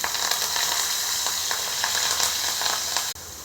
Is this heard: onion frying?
yes